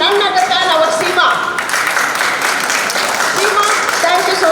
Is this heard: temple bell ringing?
no